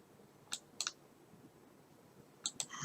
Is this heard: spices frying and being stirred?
no